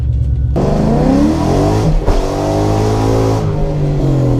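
A 2001 Ford Mustang GT, likely modified and not stock, revs loudly up close after a short quiet moment, its engine note climbing, dipping and rising again in sustained aggressive pulls.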